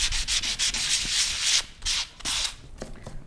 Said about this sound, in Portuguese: e depois uma lixa fina, até ficar no ponto que você pode